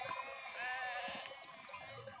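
Sheep bleating on a Turkish farm as a newly arrived flock of sheep and lambs mixes in, a wavering drawn-out bleat over low background noise, fairly faint and alone.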